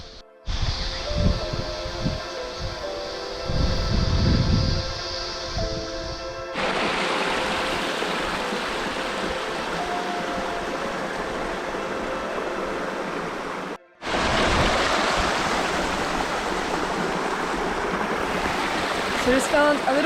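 Water rushes steadily along Glenbrook Creek, close and loud, with a continuous roaring flow that shifts in tone partway through and briefly drops out near the end.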